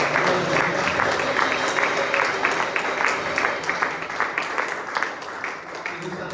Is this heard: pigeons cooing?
no